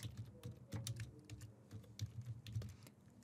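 Quick keystrokes on a computer keyboard as a short description gets typed in, irregular clicks close by with no talking.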